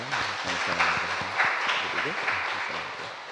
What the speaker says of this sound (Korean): 우리 청년들에게 우리 박수 한번 하시죠